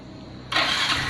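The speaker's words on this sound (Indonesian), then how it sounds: "kita akan hidupkan dulu motornya teman-teman" A Yamaha Mio Z scooter with a suspected charging fault and weak battery starts up: a quiet lead-in, then the engine abruptly catches and settles into a steady, close, fairly loud running note.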